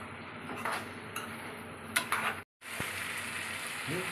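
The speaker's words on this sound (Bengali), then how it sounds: "একটু পরে পরে একবার নেড়ে দিবেন, যাতে পেঁয়াজটা উলট পালট হয়ে ভালো সুসিদ্ধ হয়" Fish and onions fry in a pan for a mustard fish curry, with a soft sizzle under intermittent clinks and scrapes of a utensil stirring the pan.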